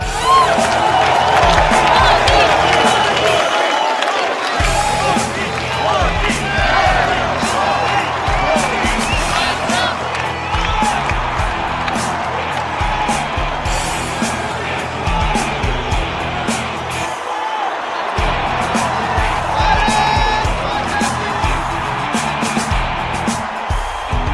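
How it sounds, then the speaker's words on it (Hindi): A studio audience at a televised political debate cheers and claps loudly in support, a dense, continuous roar of crowd noise and whoops with no pauses. "वो खड़े होके हाथ उठा के ताली बजा के समर्थन करें।"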